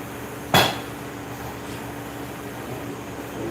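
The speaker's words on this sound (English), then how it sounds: "That's a mild steel anvil, by the way." One ringing hammer blow lands on 1-inch 4140 steel forged on a mild steel anvil, then fades into a steady low hum.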